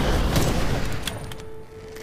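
Loud bursts of gunfire aimed at the player in the video game Witchfire, with rapid overlapping shots and sharp cracks that thin out into a few scattered reports as the volume fades.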